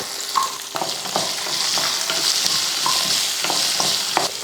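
Small shallots and garlic sauté with fenugreek seeds in a pan, a steady close sizzle marked by repeated scraping strokes and occasional clinks of a stirring spoon, with no talk.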